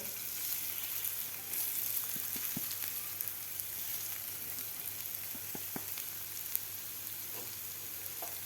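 Broken wheat (dalia) roasting in a spoonful of oil in a pan over medium heat, a steady soft sizzle and crackle with occasional light stirring taps, close and continuous.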